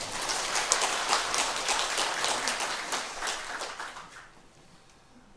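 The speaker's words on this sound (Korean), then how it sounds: "박수 칠까요?" A church congregation claps together at the close of a worship service, a dense crowd of hands sustained for about four seconds before thinning and fading out, with no talking over it.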